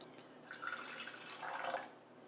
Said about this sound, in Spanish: en este recipiente vamos a colocar el agua